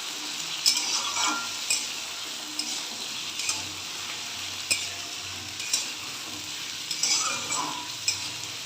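Potatoes and onions fry together in a pan, a steady sizzle punctuated by regular scraping strokes of a spatula, close and moderately loud with no talking.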